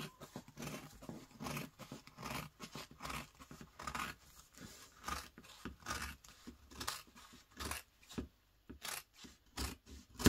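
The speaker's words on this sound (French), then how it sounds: "je vais commencer à couper. Vous découpez tout autour." Scissors cutting fabric around a round cushion during sewing, a quiet rapid series of crisp snips and rustles in uneven rhythm, close and soft, no voice over it.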